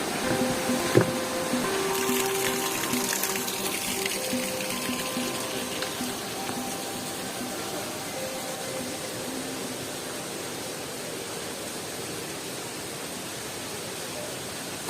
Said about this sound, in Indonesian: Terdapat banyak aliran air